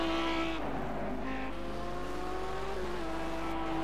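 A damaged Audi GT3 race car in the Project Cars racing game roars steadily at high revs on the Sakitto track, its engine note shifting with gear changes, loud and close with no talk.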